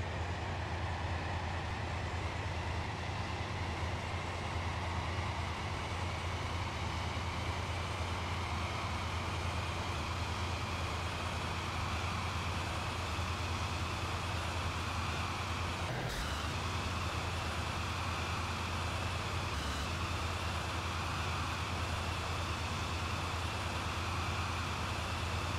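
A Stepford County Railway Connect train in the game runs steadily in a continuous low rumble and hum, with a couple of brief clanks along the way and no one speaking.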